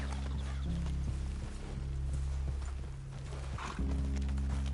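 Horses in Red Dead Redemption 2 clip-clop and shuffle at a walk, with faint snorts over a low steady rumble; no one talks.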